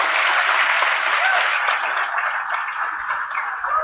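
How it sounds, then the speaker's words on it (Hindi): Loud, dense applause from an audience at an Indian polity lecture on the Constitution, a steady wash of many hands clapping that tapers slightly toward the end. "तो एक बार श्री प्रेम बिहारी नारायण रायजादा जी के लिए जोरदार तालियां।"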